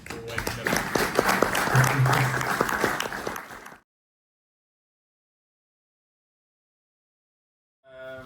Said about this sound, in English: We'll have a round of applause.